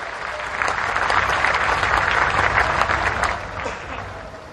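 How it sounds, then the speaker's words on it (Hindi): A large crowd at a university games closing ceremony claps to welcome young athletes, dense applause swelling after the first half-second, holding strong, then tapering off near the end. "एक बार इन युवा उभरते हुए खिलाड़ियों को जोरदार तालियों के साथ इनका स्वागत,"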